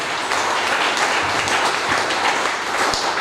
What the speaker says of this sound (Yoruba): If you are not dosing, clap for Jesus, everybody